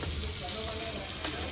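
Green chilli and ginger paste frying in oil in a pan, giving a faint, steady sizzle with a soft stir click, close by and under light background noise.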